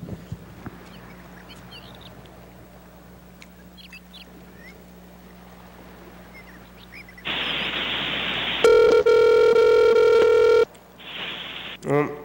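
After a quiet hiss, a phone line tone comes in, followed by a loud steady ringback tone, then a shorter burst of tone.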